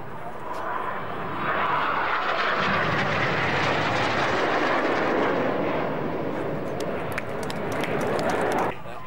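Red Arrows jet aircraft roar past during a crossing carousel manoeuvre at a Duxford air display, a loud broad engine rush swelling and holding for several seconds before cutting away.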